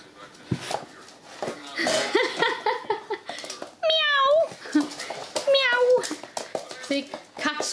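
Kittens from a litter at about seven weeks old give several clear, rising meows, two long ones in the middle, mixed with close adult talking and light laughter.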